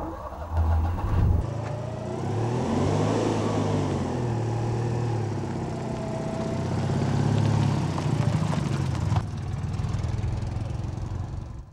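A Citroen C3 supermini drives past with a steady mid-pitched engine hum and road noise that swells and eases slightly, holding fairly loud and continuous with no talking.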